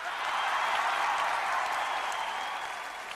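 Steady, dense audience applause fills a large hall at a fashion and film awards ceremony, clapping for actor Humayun Saeed, holding even and moderately loud before easing slightly at the end.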